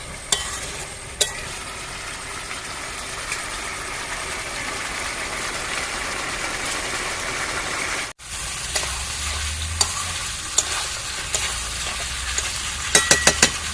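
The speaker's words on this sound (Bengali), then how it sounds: "এবার আমি কাঁচা লঙ্কা দিয়ে দেবো দিয়ে আমি দশ মিনিট এভাবে কষিয়ে নেবো ভালো করে" Chicken with green chillies sautéing in a clay pot: steady close sizzling runs throughout with a brief break, under scattered scrapes and knocks of stirring and clusters of sharp clicks near the end.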